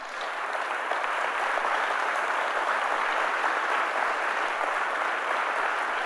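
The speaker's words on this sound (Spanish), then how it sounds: "¿Cuánto le da un fuerte aplauso a Jesús por Sión?" A congregation at a Sunday morning church service breaks into steady, even applause for Jesus, a continuous wash of many hands clapping heard from some distance, unbroken throughout.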